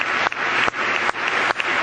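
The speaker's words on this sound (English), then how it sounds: "Keep going, keeps going, the applause." An audience in a legislative chamber gives sustained applause, a full, loud roar of clapping with a few brief dips, no voices heard over it.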